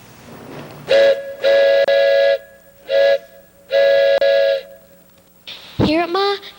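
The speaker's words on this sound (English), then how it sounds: "That whistle means the first passenger train is coming to the depot over at the East Henderson." A steam locomotive whistle sounds in a series of long, loud harmonic blasts separated by short gaps, announcing a first passenger train arriving at the East Henderson depot, followed by a sliding, rising whistle tone at the end.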